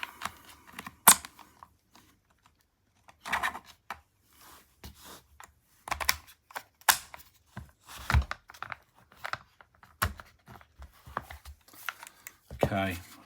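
Airsoft gas blowback rifle receivers for a Krytac Kriss Vector being fitted together: scattered plastic and metal clicks, scrapes and handling noises in short irregular bursts, fairly close, with quiet gaps.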